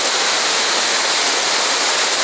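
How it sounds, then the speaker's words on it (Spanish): A waterfall in Bucay, Ecuador, roars as a loud, dense and unbroken hiss of falling water, close by and constant with no other sounds over it. "Estamos ya en la segunda cascada."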